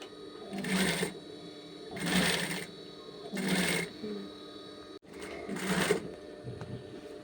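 A sewing machine runs stitches through the waist gathers of a girl's dress in four short whirring bursts, each about a second long, separated by quiet pauses, heard up close.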